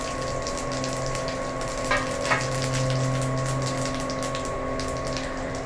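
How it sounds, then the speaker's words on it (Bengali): Cumin seeds crackle and sizzle in hot oil in a wok in a steady wash of frying noise with a low hum underneath, broken by a couple of brief rattles, and no voices. "এবার আমি কড়াইতে সাদা জিরেগুলো ফোড়ন দিয়ে দিলাম."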